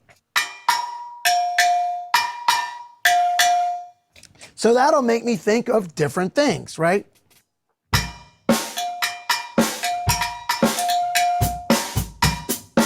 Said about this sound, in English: Yeah, it's a lens drum.